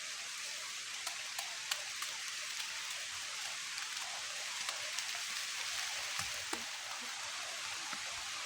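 Rain falls steadily in a rural rice-growing area as a wet season shower begins, a constant hiss of drops with occasional louder individual taps on nearby surfaces.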